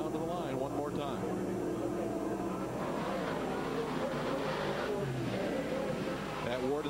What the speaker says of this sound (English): Pat Ward way down on the bottom, trying to run the inside groove and take advantage of Romano as they work out of turn four